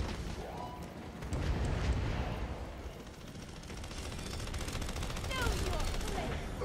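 Rapid gunfire from the video game Battleborn as an allied sentry comes under attack, bursts of shots and blasts layered with game effects and voice chatter throughout.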